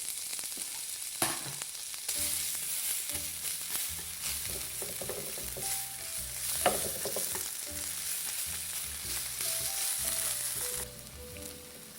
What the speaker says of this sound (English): I'm going to go ahead and put these onions in this pan. And I'm going to caramelize these